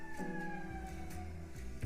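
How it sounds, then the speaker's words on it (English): Sirens wail steadily in the hero shooter Concord, a sustained tone holding over a low rumble, moderately loud and continuous with no voices over it. "Okay. Sirens."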